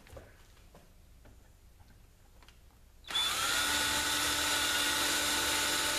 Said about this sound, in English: Now we also wanna drill a hole on the back side